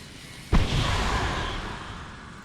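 A single mortar explosion in the video game Star Trek Online, a sharp sudden boom followed by a rumbling, hissing tail that slowly fades, heard at mid distance over steady background game noise.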